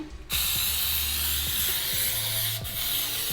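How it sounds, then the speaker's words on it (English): A pressurized can of nonstick cooking spray hisses onto a pan in one long steady spray, close and loud, with a brief dip near the end. "I'm just gonna spray my pan"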